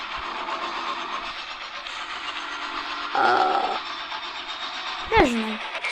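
A train ride rolls along with a steady, continuous rumble, broken by a short tonal blast partway through and a sharp rising call near the end, while voices talk over it.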